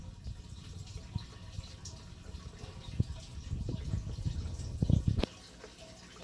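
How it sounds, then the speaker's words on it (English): Aquarium air bubbler running in a small shore crab tank, a continuous low bubbling and gurgling with irregular splashy pops, swelling louder toward the end before cutting off. "Maybe I'll unplug the bubbles to get a clearer picture."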